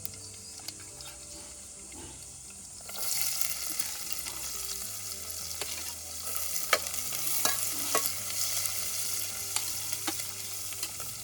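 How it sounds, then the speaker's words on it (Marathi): Cumin, asafoetida and onion frying in a pan over a wood-fired clay stove, a soft crackling sizzle that swells once the onion goes in, with light stirring scrapes on top. "जिरा टाकलंय जरासं हिंग टाकलंय आता कांदो टाकतले"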